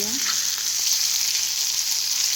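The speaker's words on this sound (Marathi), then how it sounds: "आता ह्याला आपण व्यवस्थित फ्राय करून आपण हे बोंबील एका साईडने झालेले आहेत" Bombay duck (bombil) fish fillets frying in oil in a pan, a steady close hiss and crackle of sizzling that continues evenly without any talking.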